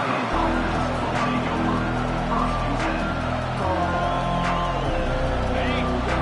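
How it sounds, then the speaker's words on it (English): A stadium crowd in the College Football 25 video game roars steadily, a dense continuous wall of cheering under a commentator's voice, with whistles and shouts rising briefly above it. "This crowd bringing the energy and noise early."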